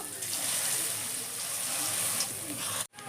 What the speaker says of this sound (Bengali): তেল গরম হয়ে গেছে, এবার আমি তেলের মধ্যে একে একে বড়া ভেজে নেব